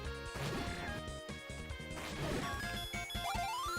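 Bombs blasting enemies in the retro Zelda Classic game, a dense run of crashing explosion hits over chiptune music, loud and steady with a rising tone sweep near the end.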